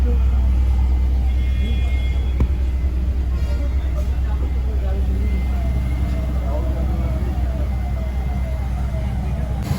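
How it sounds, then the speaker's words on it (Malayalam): Steady low engine rumble and road noise fill the interior of a moving bus on a morning ride in Ayodhya, continuous and loud throughout, with faint passenger chatter underneath. "ഞങ്ങൾ ബസ്സിൽ കയറി. രാവിലത്തെ ബസ്സായതുകൊണ്ട് ഇരിക്കാനും സീറ്റ് കിട്ടി കേട്ടോ."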